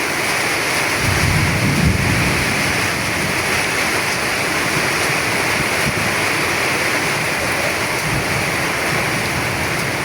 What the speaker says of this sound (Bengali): প্রচুর বৃষ্টি, প্রচুর প্রচুর